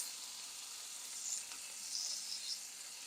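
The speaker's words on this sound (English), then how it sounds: "So I'm just going to add some shrimp into my pan." Seasoned shrimp sizzle in a pan on a weeknight home stove, a continuous fine hissing crackle with small pops, steady and fairly quiet, with no talking.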